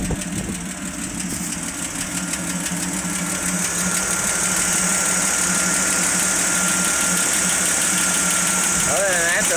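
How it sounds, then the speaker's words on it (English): A 1981 Jeep CJ-7 six-cylinder engine with low oil pressure idles steadily and loudly up close. A light, even lifter tap ticks through the rumble, and a brief rising whine comes at the end. "It's a 6-cylinder. Sounds good. Other than the lifter tap. You can hear them pretty easily."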